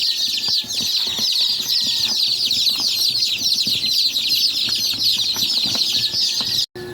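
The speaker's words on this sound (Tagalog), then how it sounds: "yan na ang aming mga sisiw" A brooder packed with a first batch of 112 baby chicks gives off a dense, continuous chorus of shrill high cheeping, loud and close, with faint scuffling beneath.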